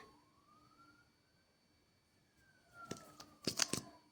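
A faint, distant siren wails with a slowly rising and falling pitch, followed by a few nearby clicks and taps.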